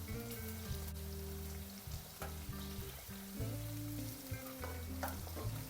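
Green beans stir-frying in a pan give a steady, close, crackling sizzle, with occasional scrapes and clinks from stirring. A low droning hum runs underneath, and no one speaks.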